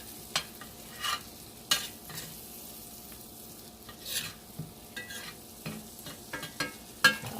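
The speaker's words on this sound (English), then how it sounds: "Now I'm going to put my 2 pieces of butter in, my 2 sticks of butter, and we're going to let that cook down." Two sticks of butter sizzle in a pan for Cajun pasta jambalaya, a steady soft hiss broken by irregular spoon scrapes and stirring clinks, close and fairly quiet.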